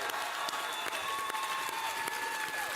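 Audience applause at a Kingdom Hearts panel during the D23 event, a steady wash of many hands clapping that continues without a break, with no speech over it.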